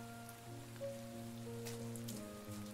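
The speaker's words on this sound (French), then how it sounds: "La pluie soudaine perturba son trajet et il essaya donc de trouver un abri contre la pluie." Soft, steady patter of sudden rainfall in a story-driven game about landscapes, quiet and continuous beneath sustained musical tones.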